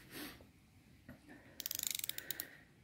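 A ratchet wrench working on the steering gearbox lock nut of a truck, giving a quick burst of close, sharp clicking pawl ticks near the end after quieter handling sounds.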